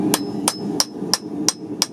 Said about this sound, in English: I got my lighter hammer.